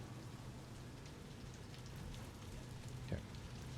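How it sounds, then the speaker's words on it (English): Heavy rain in the video game Rain World, a dense steady hiss of downpour with a low rumble underneath and a brief tonal blip near the end; fairly quiet and continuous, no talking. "It's raining pretty heavily."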